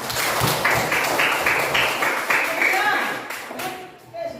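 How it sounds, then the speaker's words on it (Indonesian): Schoolchildren in a classroom clap for a classmate, a burst of rhythmic, close clapping that thins out and fades near the end, with a few voices mixed in. "sekarang tepuk tangan dulu untuk teman kita"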